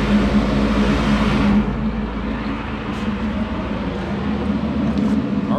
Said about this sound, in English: This is the exhaust, so let's go ahead and turn it on low. It's a very, very funny noise.